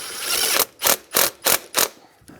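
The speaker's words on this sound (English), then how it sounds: "we're just going to tighten up that hose clamp." Ratcheting a hose clamp tight on the throttle body of a 2003-2011 Honda Element, a close rasp followed by four even bursts of clicking.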